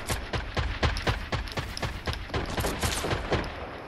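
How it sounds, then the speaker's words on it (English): Rapid bursts of enemy gunfire in a shooter video game, sharp repeated shots in a steady fast rhythm across the whole stretch, fairly close and loud with no talk over them. "He's trying to shoot at me."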